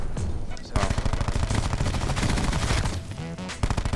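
Rapid gunfire from a first-person shooter video game in hardcore mode, loud and dense bursts of shots crackling nearly nonstop, with a brief lull near the end and a faint voice underneath.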